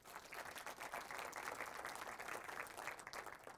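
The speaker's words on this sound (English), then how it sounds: "We can do a normal applause now." An audience at a tech conference talk applauds, a dense, steady patter of many hands clapping together, sustained and fairly even for several seconds, heard from a moderate distance.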